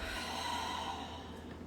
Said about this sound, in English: Deep inhales. And just letting it go with the exhale.